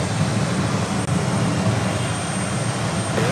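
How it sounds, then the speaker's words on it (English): A Delta 767-300ER jet at JFK airport, a loud, steady engine roar with deep rumble close by. "Followed by yet another Delta 767-300ER heading to, is it Catania?"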